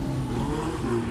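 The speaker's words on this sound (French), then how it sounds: "accélérer très brutalement de façon à faire déboîter le train arrière du" Alpine Berlinette sports car accelerating very hard as its rear end slides out, a steady, loud, close engine roar with no voices.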